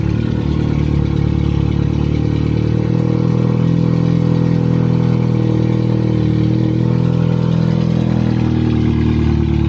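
A tuned BMW F32 428i running on E85 with a VRSF charge pipe and upgraded intercooler idles loudly and steadily up close, a deep continuous engine drone with no talk over it.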